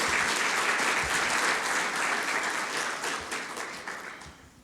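A church congregation claps together in a sustained, full burst of applause that gradually tapers off toward the end.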